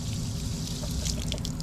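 Water dumping from a stainless steel buffer tank through an opened valve and bulkhead fitting on a pressure-washing rig, a steady close rushing pour lasting under two seconds with no talking.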